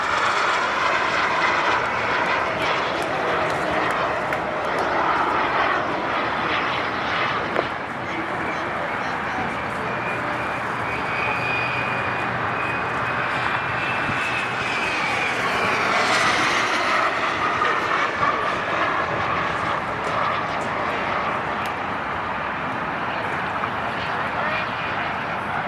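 Model Hornet jet flying an inverted pass at an RC jet meet in Quakertown, a steady, loud engine roar that swells as it crosses the field, with an announcer talking over it throughout.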